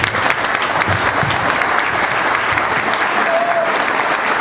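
Audience at a journalism talk giving loud, dense, continuous applause close by, with faint voices mixed into the clapping.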